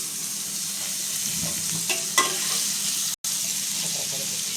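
Butter sizzles and crackles in a hot pan on a gas stove while egg paratha is cooked, a soft steady frying hiss with a few faint clinks and one brief dropout.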